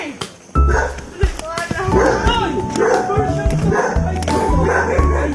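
A dog barks and yips repeatedly, close and loud, with whimpering calls in between, while people talk and exclaim over it.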